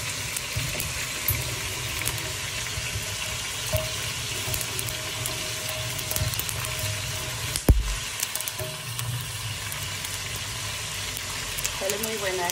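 Garlic frying in a pan sizzles as a steady, close hiss throughout, with one sharp clatter near the middle.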